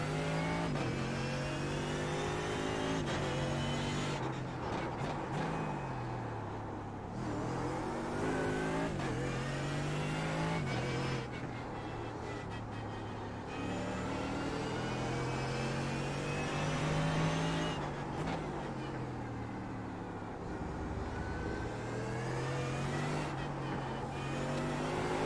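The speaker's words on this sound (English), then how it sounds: "Take care, there's a car approaching." Mercedes AMG GT3 race car engine in an iRacing GT sprint race at the Nürburgring, droning steadily and loud throughout, with pitch rising and falling through repeated revving and gear shifts as another car approaches.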